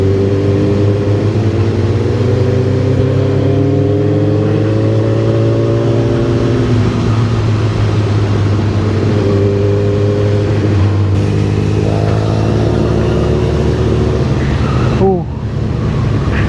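A vehicle engine on a night ride along the NH-66 highway gives a steady, loud droning hum with gradually rising and falling revs throughout, and voices are faintly present beneath it.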